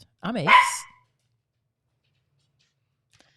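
A pet dog gives one short, close bark with a rising whine, loud and sharp, followed by near silence; a person speaks briefly at the same moment.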